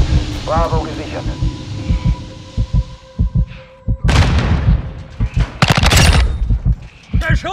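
Bursts of rapid gunfire and sharp single shots crackle through a Call of Duty: Modern Warfare 2 Domination match, with German voices calling out between them and a low hum beneath.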